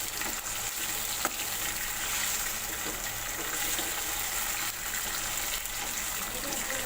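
Potatoes dropped into the same hot oil used for aubergines, lightly frying for aloo baingan with a steady, continuous sizzle that stays fairly even from start to finish, with a few faint stirring knocks and no talk.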